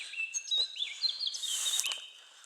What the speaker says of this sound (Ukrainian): Бачимо, пташечки співають